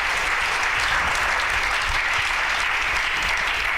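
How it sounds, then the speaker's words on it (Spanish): A church congregation applauds the Lord with strong, sustained clapping, a dense continuous roar of hands that holds at full strength throughout. "Le doy un aplauso fuerte al Señor"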